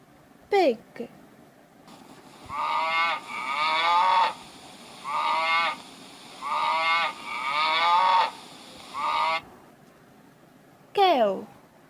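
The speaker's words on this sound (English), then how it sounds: "Cow." A cow moos in a series of about six drawn-out, steady calls with short gaps between them, loud and close, framed by a brief spoken word at the start and end.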